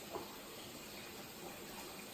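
Warm water runs from a kitchen tap for bread dough, a steady, faint hiss of flowing water lasting throughout with no speech.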